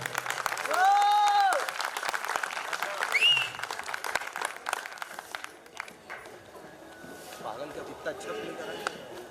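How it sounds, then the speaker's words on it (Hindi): Audience applause at a theatre festival stage event in Itarsi, a crowd clapping loudly and steadily, with a voice and some tonal sounds briefly over it early on and the clapping thinning toward the end. "जोरदार तालियां एक बार पुनः"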